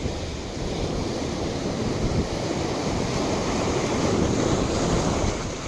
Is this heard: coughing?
no